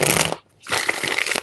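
Tarot cards being shuffled by hand, two loud bursts of riffling flutter split by a brief pause, with no voice.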